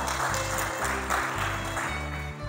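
A church congregation claps for God during a worship service, with a steady layer of clapping over rhythmic, bass-heavy music that pulses about twice a second.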